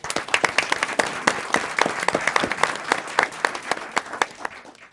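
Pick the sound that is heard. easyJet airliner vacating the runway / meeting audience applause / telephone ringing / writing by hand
meeting audience applause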